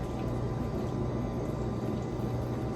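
Boiling water poured from a pot over chocolate cobbler batter in a home kitchen, a steady close liquid stream that runs unbroken for the whole stretch, with no talk over it.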